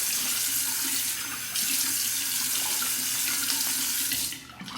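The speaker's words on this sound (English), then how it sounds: "Cold water rinse." Cold tap water pours steadily into a sink while a Feather adjustable safety razor is rinsed, a loud, close, continuous hiss that briefly shifts and dips near the end as the stream is interrupted.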